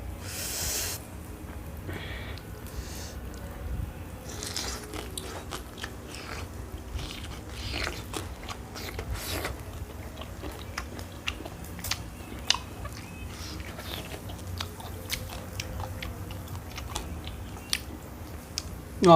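Grilled pork is chewed close up with wet biting and crunching, a steady irregular run of mouth sounds with no talk.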